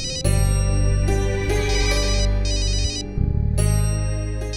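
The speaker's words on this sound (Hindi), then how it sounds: "ओ, मेरे बॉस का फोन है।" A loud electronic phone ringtone plays a bright repeating melody over a steady low tone, continuing for several seconds without pause.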